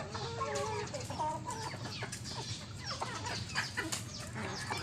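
Chickens being fed cluck steadily in a close, busy flock, with a rooster-like call now and then over a continuous farmyard background and no talking.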